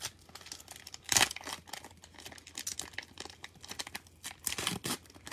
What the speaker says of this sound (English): Then we're going to rip that Illusions.